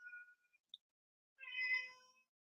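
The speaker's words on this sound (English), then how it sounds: "Do you hear the cat?" A cat meows once in a room during a live spirituality talk show, a short faint harmonic cry that rises and falls, following a brief quiet voice and otherwise surrounded by near-silence.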